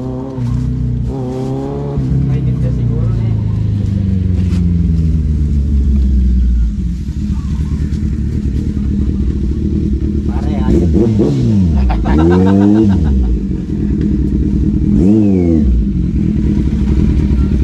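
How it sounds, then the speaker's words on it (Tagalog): Motorcycles ride past on a cracked rural road, their engines swelling as they near and fading as they go, with two clear pass-bys close together late on, under a continuous engine rumble and people talking. "Kilala ko yung motor na yan eh."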